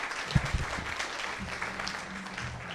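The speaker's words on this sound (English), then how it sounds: "let's have a round of applause" An audience at a chamber of commerce luncheon applauds a panel, a soft, even wash of clapping from the room that continues without a break, with a couple of sharper thumps near the start.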